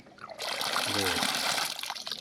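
Tap water trickles steadily into a trough in a cattle shed, fed by a direct pipe connection. A continuous close splashing flow fills the whole stretch.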